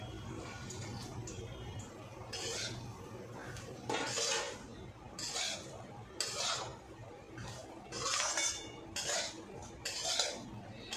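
Nuts and roasted semolina for upma are stirred in a pan, with repeated bursts of a spoon scraping and clinking against the metal in an irregular rhythm, fairly close and moderately loud.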